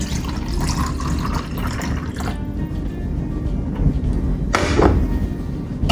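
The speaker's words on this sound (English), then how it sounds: "So all we're going to do is just pour." Thick, frothy Spanish hot chocolate is poured into a cup, a close, steady liquid trickle with small splashes and gurgles that runs for several seconds.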